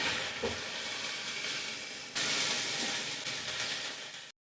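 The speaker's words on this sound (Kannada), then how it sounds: "ಈಗ ಬೆಂಡೆಕಾಯಿನೂ ಅಷ್ಟೇ ಒಂದು 5ರಿಂದ 6 ನಿಮಿಷ ಚೆನ್ನಾಗಿ ಫ್ರೈ ಮಾಡ್ಕೊಂಡಿದ್ದೀನಿ" Okra frying in a pan for bendekayi chops, heard as a close, steady sizzle and hiss with brief stirring scrapes. The sizzle surges louder partway through and then stops abruptly.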